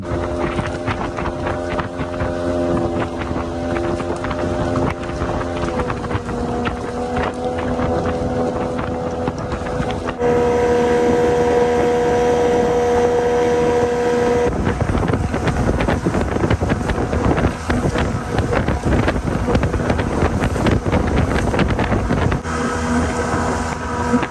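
A GT480 boat's outboard motor with a JWO 140 straight-through exhaust drones steadily on open water, loud and continuous with wind buffeting the microphone, its pitch shifting slightly partway through.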